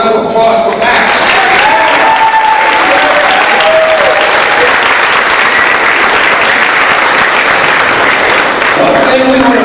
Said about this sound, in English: How about a round of applause for Max?